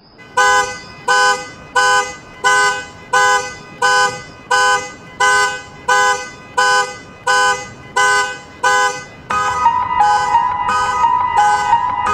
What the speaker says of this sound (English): the note that the car alarm is playing